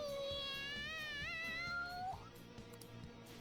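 Excited cat meowing in the video game Persona 5, a long, rising and wavering meow fairly close and clear over a low background hum, then trailing off.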